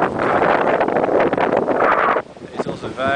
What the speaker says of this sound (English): It's also very, very windy.